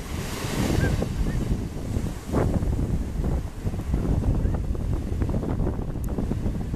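Surf rolling in over steady wind buffeting the microphone, with a few swells rising and falling close by and no voices.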